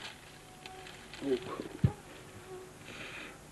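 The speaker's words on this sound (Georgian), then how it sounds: "რამდენი კოღოა?" Mosquitoes buzz inside a collapsed cave passage, a faint, thin whine close by, under quiet human voices and brief rustling movements.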